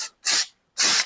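Rust-Oleum aerosol can laying down textured undercoating in a wheel well: two loud, close hissing sprays of about a third of a second each, with a short silent gap between them.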